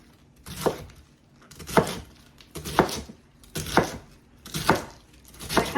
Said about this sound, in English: So I'm just going to cut it in chunks